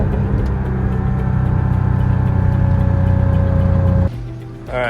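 A Porsche Cayman S 987.1 engine held at about 4,000 RPM, a loud steady close-up drone that drops off abruptly near the end, followed by a brief rising whir.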